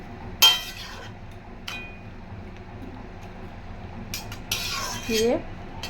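A metal utensil stirs food in a pot while shukto cooks, producing a few sharp clinks and scrapes against the pot at irregular moments, with quiet, low background between them.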